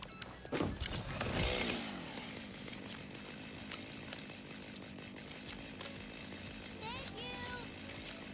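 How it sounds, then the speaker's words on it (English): Chainsaw in the video game Satisfactory revs loudly in a short burst, then settles into a steady buzzing drone under faint game sounds, with brief voices in the mix. "Fixit designed the chainsaw to be affordable to all pioneers."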